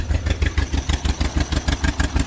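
Engine of an old John Deere MV tractor running to warm up, a loud, rhythmic, chugging idle with evenly spaced pulses close to the listener.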